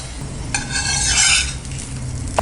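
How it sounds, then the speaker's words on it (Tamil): Egg Mughlai paratha cooking in a little oil on a pan, a soft sizzle and stirring scrape rising briefly in the middle, close and moderately loud, with no voices. "லைட்டாக ஆயில் விட்டுக்கலாம். இது அப்படியே வேகட்டும்."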